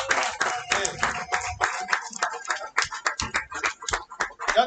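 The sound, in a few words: audience applause for barber bootcamp graduates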